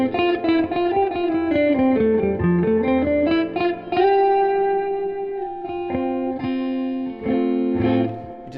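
Electric guitar played through a Fender '68 Custom Deluxe Reverb amp, clean melodic single notes and sustained chords bathed in spring reverb, with a slight wavering shimmer and no talking.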